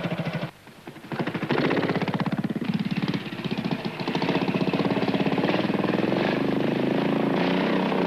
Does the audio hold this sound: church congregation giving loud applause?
no